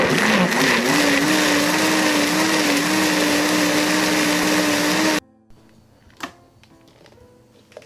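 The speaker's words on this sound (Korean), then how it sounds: "여기에다가 아까 익혀놓은 감자랑 야채랑 옥수수 모두 다 넣어서 갈아주겠어요" Kitchen blender running loud and steady for about five seconds, puréeing cooked potato, vegetables, corn kernels and milk for corn soup, its motor pitch wavering slightly before it cuts off, leaving quiet clatter and small knocks.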